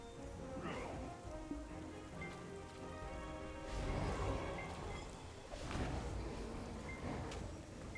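Steady rain falls in the Black Desert game world, a continuous hiss of drops on surfaces with a couple of louder swells, over layered background music and no talking.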